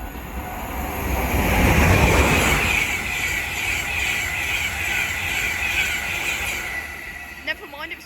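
An LNER InterCity 225 train passes through Hitchin on the East Coast Main Line with a loud, swelling rush of wheels and wagons that peaks early, then fades into a steady rolling roar with a brief squeal near the end.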